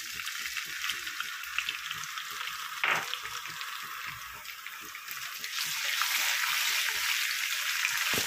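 Two or three large ground tomatoes go into a hot pan of browned masala for Nargisi kofte, setting off a bright steady sizzle with stirring scrapes, the frying hiss swelling louder toward the end.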